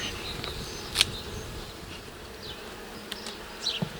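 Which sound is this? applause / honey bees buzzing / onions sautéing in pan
honey bees buzzing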